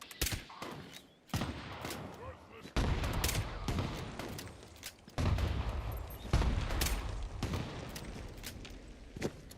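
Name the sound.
gunfire from shooting in a video game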